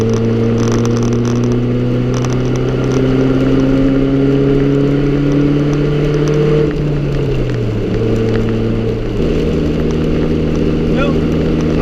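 A custom-built truck, with rust and newly fitted bed rails, cruising on a test drive, its engine humming steadily and loudly from inside the cab, the pitch easing down briefly midway before steadying again.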